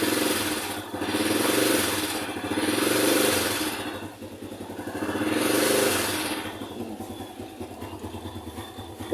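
A motorcycle engine being exercised after long disuse, revved in several rising and falling surges over a steady idle, close and loud with no voices.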